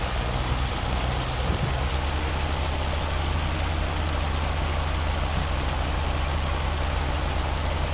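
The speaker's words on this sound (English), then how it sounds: "The rain's getting lighter." Steady, dense rain hisses evenly in the Farming Simulator 25 game world, with a low vehicle engine drone running beneath it throughout.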